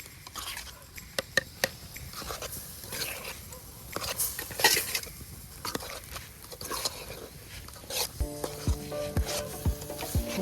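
Puffed rice is tempered and stirred in a pan for bhel, with a faint sizzle under soft scraping and clicking stir strokes that come in irregular bursts.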